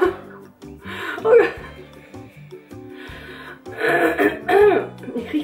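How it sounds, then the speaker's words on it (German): Coughing and throat clearing from people eating extra-spicy Korean fire noodles, repeated rough bursts mixed with laughter and breathy voices, fairly close and loud. "Ich krieg voll Husten."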